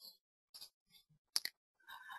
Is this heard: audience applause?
no